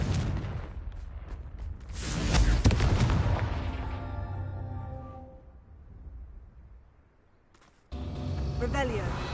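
A Confringo fire spell from the Hogwarts Legacy video game blasts out as a loud, rumbling burst that swells and then slowly fades, with further game sounds cutting back in afterward.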